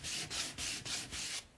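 A large sanding block rubs along the grain of a wooden gunstock in five even back-and-forth strokes, a close, soft, raspy scratching with brief gaps between passes.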